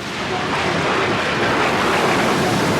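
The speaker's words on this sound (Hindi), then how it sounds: "लहरें बहुत ज्यादा तेज हैं।" Strong, stormy ocean waves at sea churn in a steady, loud, dense rush, like wind-driven surf all around. It continues without a break or any clear voices.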